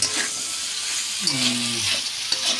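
Curry with fritters (bora) sautéing in oil, giving a steady sizzle with stirring, and a brief low tonal sound in the middle.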